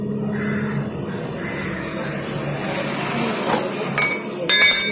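A 12-size bolt is worked loose from a scooter shock absorber, giving a few sharp metallic clinks near the end over a low background hum.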